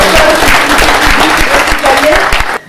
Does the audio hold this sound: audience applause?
yes